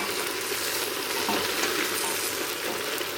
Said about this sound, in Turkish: Bir müddet daha soğanla beraber etimizi kavuracağız